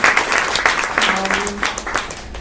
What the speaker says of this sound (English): I'd like to give a big round of applause to him for a very interesting